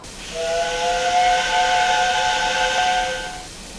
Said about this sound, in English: Wait, whose whistle was that?